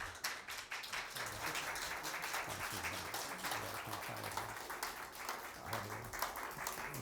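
A congregation claps to welcome a pastor at a spiritual leadership training meeting, a soft, steady patter of many hands that runs throughout, with a low hum or music underneath.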